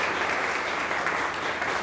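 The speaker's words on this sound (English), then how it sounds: "We can go ahead and give him a round of applause." Steady, dense applause from a concert audience greeting the maestro at an organ and strings concert, even and sustained throughout with no voices over it.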